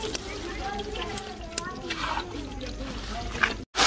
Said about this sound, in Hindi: अभी इसके अंदर पानी शामिल कर रहे हैं।